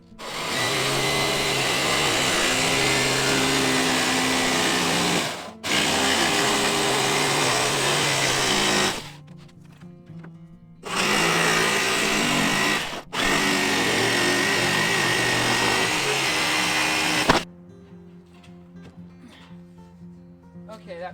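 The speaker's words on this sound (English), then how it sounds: "I'm gonna be using a jigsaw to cut it." A jigsaw cuts a wooden board for a chicken tractor in loud, close bursts, two long runs separated by short pauses, then stops; quiet gaps between the cuts.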